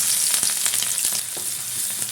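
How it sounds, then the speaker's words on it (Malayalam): Crushed dried red chilli and shallots fry in hot oil after mustard seeds have popped, giving a steady close sizzle with scattered crackles and stirring sounds throughout, no voices. "കടുക് പൊട്ടി കഴിഞ്ഞിട്ടുണ്ട് ഈ വറ്റൽ മുളകും ഉള്ളിയും കൂടി ചതച്ചത് നമുക്ക് ഇട്ട് കൊടുക്കാം"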